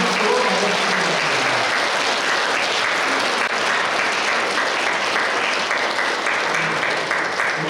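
An audience at a book talk applauds steadily for several seconds, a dense, even wash of many hands clapping with no pauses.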